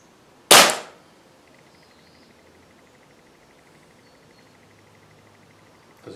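A single sharp crack from an FWB 65 air pistol firing, close and loud, followed by near silence with faint background hiss and a small click at the very end.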